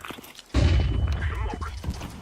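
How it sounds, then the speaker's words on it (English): A flashbang grenade goes off in a video game as a sudden low, muffled boom. A deep rumble follows and slowly fades out, with no voices. "Throwing a flashbang."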